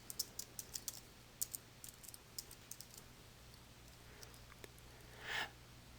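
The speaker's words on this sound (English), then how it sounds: "click into the File Name text box and type the name that you want to give" Typing a file name on a computer keyboard, a quick run of light, close key clicks in irregular clusters over quiet room hum, followed by a brief sniff-like breath near the end.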